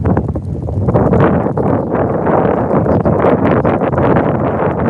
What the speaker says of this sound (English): It's very windy. Beautiful, but windy.